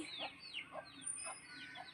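Chickens clucking nearby in a quick repeated rhythm, several short calls in two seconds, fairly quiet with no talking.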